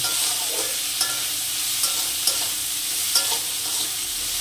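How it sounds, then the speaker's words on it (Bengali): Green banana peels seasoned with salt and turmeric fry in a pan with a steady close sizzle, punctuated by a few light scrapes and clicks from stirring, no voices. "এবার খোসাটাকে আমি ভালো করে ভেজে নেব।"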